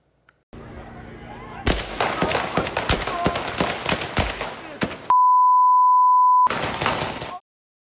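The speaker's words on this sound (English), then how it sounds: "You just heard some of the gunshots as police shot and killed the West 6th Street shooting suspect." Police gunshots at a West 6th Street shooting in Austin, Texas: a rapid series of sharp bangs crackles through a phone recording, then a long steady censor beep, then more chaotic noise.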